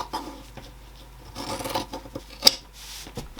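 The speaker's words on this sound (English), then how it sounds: "I'm going to trim that down" Scissors snip and rub through fabric while a zipper tote pocket is trimmed down, soft rasping cuts with one sharp click, quiet and close, without talk.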